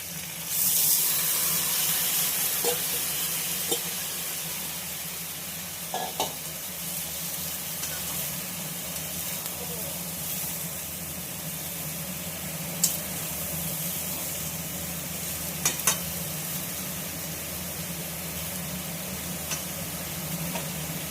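Boiled pumpkin greens fry with softened vegetables in a pan, giving a continuous, even sizzle close by, broken by a few faint clicks and taps of a utensil.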